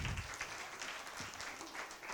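A church congregation at a children's day celebration claps together, a steady wash of many hands that holds evenly throughout at moderate, somewhat distant level.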